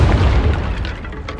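A Confringo spell explosion in the video game Hogwarts Legacy: a single loud, deep fiery boom with crackling bursts that rumbles and fades over about a second.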